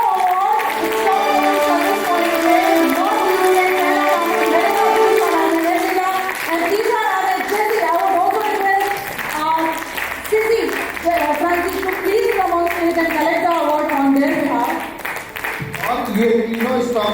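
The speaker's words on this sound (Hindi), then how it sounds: "तो एक बार जोरदार तालियां।" Applause from the audience at an awards ceremony in Lucknow, steady clapping that runs the whole length and sits under loud music and voices.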